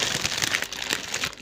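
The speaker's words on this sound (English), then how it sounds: "Thúng keng, this bag, the bag, plastic bag." A plastic bag is handled at close range, giving a continuous dense crinkling and rustling with small crackles throughout.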